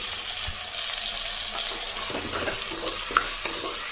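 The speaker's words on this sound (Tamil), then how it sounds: "இதை நல்லா வதக்கி எடுத்துக்கணும்" Ripe tomatoes sautéing with curry leaves in oil in a pan; a soft, steady sizzle holds throughout with faint stirring scrapes and one small clink, quiet and close.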